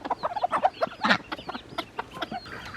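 Hens on a homestead cluck in quick, chattering bursts to call their chicks to food, with several close, overlapping calls repeating steadily throughout.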